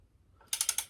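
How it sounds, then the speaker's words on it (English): A torque wrench tightens a fastener on a 1983 Yamaha AG100 engine during a top-end rebuild, giving four quick, close ratcheting clicks after a near-silent start. "we got the torque wrench and we're going to tighten it up"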